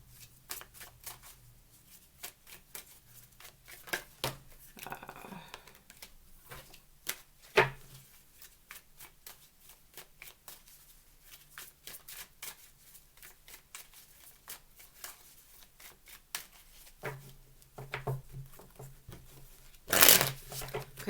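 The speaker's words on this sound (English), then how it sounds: "let me move all my cards out of the way" Tarot cards slide, riffle and shuffle on a table in a long run of quick papery flicks and taps, close up. A brief louder rustle comes near the end.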